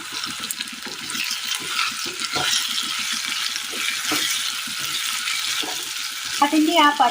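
Chopped green plantain sautéing in a pan for a Kerala curry, a steady close sizzle with repeated scraping stirs and a louder clatter near the end.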